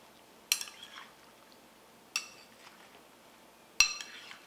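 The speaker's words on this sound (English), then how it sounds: "Mix it up very well." A spoon clinks against a dish three times while food is stirred and mixed, sharp metallic taps spaced about a second or more apart over a quiet background.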